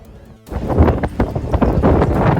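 Strong autumn wind in Japan, strong enough to halt a ropeway, buffets the microphone in loud, rumbling gusts after a brief quiet start, with rattling and thumping mixed in.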